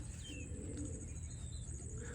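Pigeons coo softly and chirp while picking up leftover grain outdoors, a low steady murmur with faint higher calls over a constant background hum.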